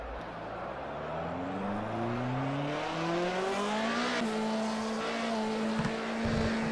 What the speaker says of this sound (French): Cette voiture je l'aime beaucoup, c'est une voiture des années 80.